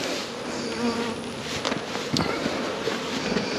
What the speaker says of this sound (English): So there's bees, tons of them